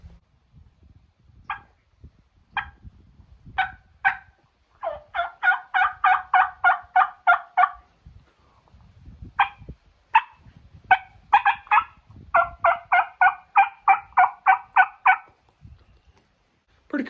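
Flex-tone turkey mouth call imitating a turkey: a series of yelping clucks, single notes then fast rhythmic runs of about eight to ten sharp yelps, close and loud with quiet gaps between bursts.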